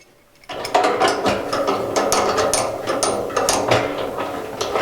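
A propane attachment is screwed onto the side of a Coleman camping stove, giving a steady loud run of ratcheting, clicking metal threads that starts abruptly and continues close up without pause or speech.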